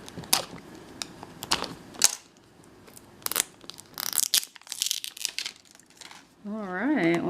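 A sealed gold foil package on a Miniverse miniature capsule is torn open along its tear line, giving several sharp crinkling rips and rustles up close, followed by a brief pause and a tonal sound at the end.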